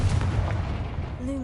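A Confringo blast spell in Hogwarts Legacy gives a heavy, booming burst with a low rumble that fades out, followed by a brief tonal magical hum.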